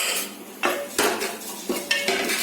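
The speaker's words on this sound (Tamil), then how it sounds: "இந்த மாதிரி ஒரு மரக்கரண்டி, ஈயக்கரண்டி எது உங்களுக்கு சரியமா வீட்டில் இருக்கோ அதை வச்சு இதை நல்லா கிண்டுங்க" A spoon scrapes and clanks against a pan while neem flowers and dry ginger are stirred, giving several sharp metallic knocks about half a second apart over a low scraping rustle, close and fairly loud, with no voices.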